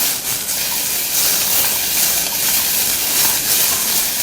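Ingredients for a brown gravy sauce are stir-fried in a pan, producing a loud, continuous, close hissing sizzle that holds steady throughout without any voices.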